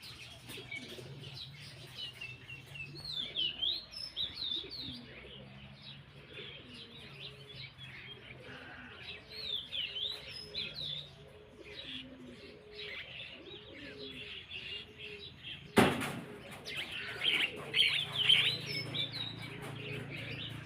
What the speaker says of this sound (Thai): เสียงดีจัง เลย เจ้า นกน้อย